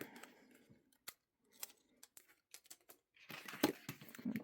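Scissors cutting paper up close, a series of sharp snips at irregular intervals, followed by rustling and crinkling of paper, fairly quiet overall.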